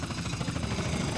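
A helicopter in Grand Theft Auto V gives a steady, moderately loud rotor drone with a faint rhythmic chop that fills the whole short moment, with no voices.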